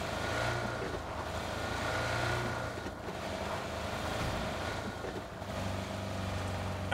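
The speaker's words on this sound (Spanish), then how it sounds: "Escucho un coche." Distant car engine in PUBG on the Erangel map, a low steady hum rumbling far off in a continuous drone with no talk over it.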